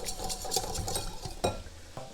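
Vanilla and vanilla pod are stirred into warm butter in a bowl, giving soft, quiet scraping and light clinks of a utensil against the dish. There are a few sharper taps, and no voices.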